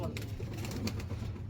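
Pigeons coo low and soft in a brief, steady stretch, with faint talk and background noise over the calls.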